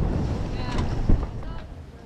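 Strong south wind buffets a sailing boat at sea, gusty roaring and microphone rumble with water splashing, close and loud in short bursts.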